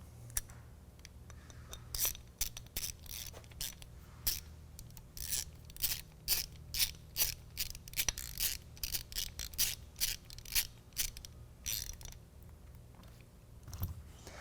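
An Allen head bolt on a BAKFlip CS tonneau cover load stop being tightened with a hex key, a rapid series of close ratcheting clicks in uneven bursts, heard alone.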